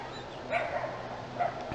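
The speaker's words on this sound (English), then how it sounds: "they keep barking whenever somebody passing their trailer." Dogs left alone at a campground RV trailer near Yellowstone give a few faint, distant barks and yips, two short bursts over steady background ambience.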